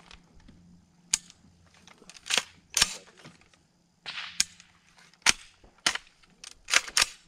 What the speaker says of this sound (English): Got to shoot the steel from the block.